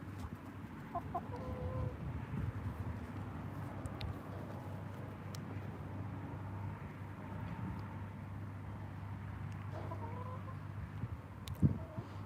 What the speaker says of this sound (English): Chickens are doing pretty good.